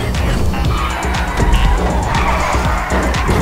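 A car drifting in GTA Online, loud continuous tire squeal and skidding over a roaring engine, sustained throughout at close range.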